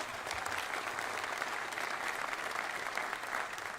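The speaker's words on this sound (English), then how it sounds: "Please join me once again to give Colleen another round of applause for her leadership." Sustained audience applause fills a stage event introducing Buzz Williams as Maryland's new head coach: a dense, steady wash of many hands clapping, loud and close, with no break across the stretch.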